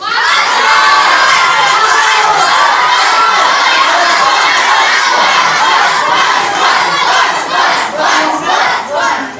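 Loud school crowd at a Tihar celebration program cheering, shouting and applauding after a student's song, a dense sustained roar of children's voices that stays at full volume throughout.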